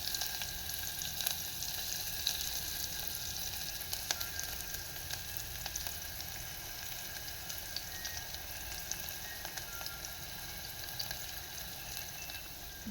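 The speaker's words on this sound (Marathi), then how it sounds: "हे छान कांदा आणि लसूण लाल झालं" Onion and garlic frying in a tempering of hot oil with asafoetida, a soft, even sizzle that carries on steadily at close range with faint sputters and pops scattered throughout.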